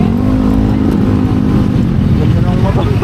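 A motorcycle engine running nearby with a steady throaty drone and slight pitch wavering, loud and continuous, while people talk over it.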